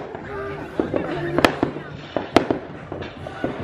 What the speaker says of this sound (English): The fucking firework went into the garage.